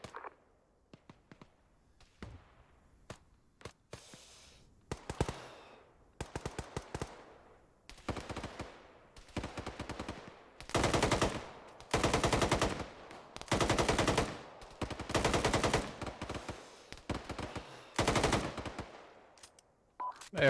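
Gunfire in the military simulation game Arma: long, loud bursts of automatic fire that come in repeated strings, alone, with short quiet gaps and scattered single shots at the start.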